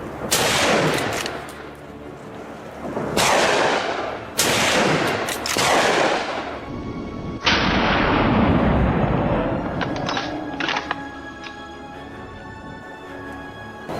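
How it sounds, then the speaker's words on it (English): Rapid gunshots fired at a wild boar on an American farm, four loud close blasts in quick succession, each followed by a long ringing echo that fades out. "a rapid succession of shots rang out, felling the monstrous creature instantly"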